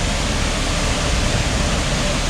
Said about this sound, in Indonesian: air terjun ya pemirsa, dan airnya deras sekali pemirsa